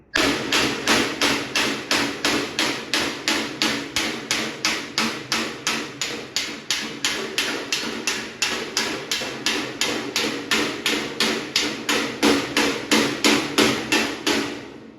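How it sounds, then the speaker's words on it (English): Steady, rapid hammer blows shaping sheet metal on a 60-gallon air tank, about three strikes per second, close and loud, continuing without pause throughout. "I'm going to try to hammer that out now."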